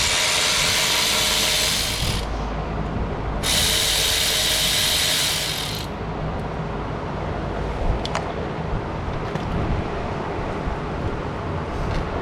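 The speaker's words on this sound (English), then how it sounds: "we're going to remove the 2 10mm bolts right here" A hand ratchet clicks rapidly in two bursts while loosening 10mm bolts near the oxygen sensor wiring on a 2006 Honda Civic, followed by quieter metallic handling and a few light taps.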